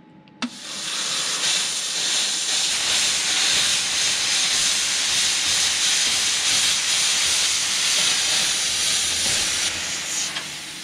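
A compressor-powered tool cuts a hole in the steel wall of a shipping container during a home build, producing a loud, continuous harsh hiss and roar that starts abruptly and holds steady for about ten seconds before cutting off.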